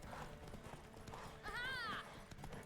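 Horse hooves clip-clop at a steady pace in The Witcher 3 video game, with a short whinny partway through, faint and low in the mix.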